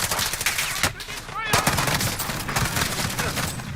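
Gunfire from a JAK-12 automatic shotgun in Call of Duty Warzone: a rapid run of loud, close blasts with a brief pause midway, then more shots, over game noise.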